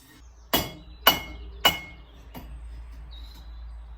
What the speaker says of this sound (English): I'm just going to bend a bit over the edge of the anvil